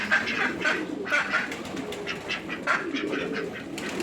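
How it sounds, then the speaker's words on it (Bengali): Mixed farm birds, chickens, ducks and pigeons kept on a farm in Qatar, calling in a busy overlapping chorus of clucks and squawks at moderate distance, with no talking. "মুরগ আছে, হাঁস আছে, কবুতর আছে, বিভিন্ন প্রজাতির পশু পাখি আছে"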